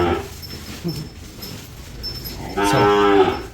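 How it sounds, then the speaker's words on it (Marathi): A cow on a Maharashtrian farm gives a loud, close moo near the end after quieter background sounds, with a single sustained harmonic call lasting under a second. "राधा वरडायला लागल्या"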